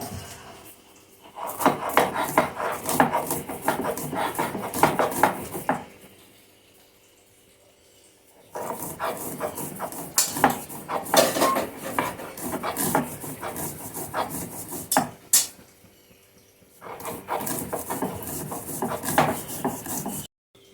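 Ginger and green chillies being worked into a spice mix for hing kachori. Rough, rasping scrapes come in three long, steady bursts, separated by short quiet pauses, close and fairly loud.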